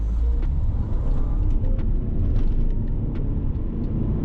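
Audi A4 in sport mode with traction control switched off, accelerating hard from a standstill: a loud, continuous low engine rumble and drivetrain roar heard from inside the cabin, steady throughout without speech.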